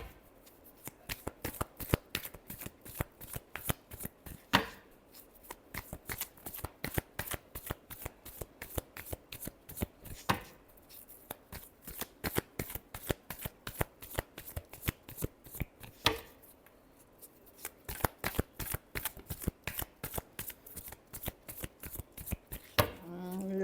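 Tarot cards are shuffled by hand in rapid riffling bursts, close and crisp, with sharp repeated slaps and short pauses between rounds.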